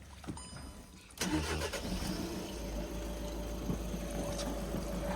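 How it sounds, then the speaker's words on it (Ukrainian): A 2011 Seat Altea XL with a 1.6 diesel engine cranks briefly, fires up, and settles into an even, steady idle close by, with a faint voice at the start. "Ви можете почути, мотор працює рівно."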